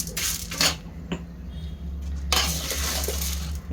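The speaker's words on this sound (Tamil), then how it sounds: "இந்த உரல் எடுக்கிறேன்." A stone ural mortar is lifted and set down, giving a few hard knocking clinks close by over a low steady hum.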